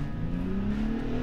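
A 2021 Ford F-150 Raptor on 37-inch tires revs off-road on slippery ground, a steady loud engine drone rising slightly in pitch under light throttle.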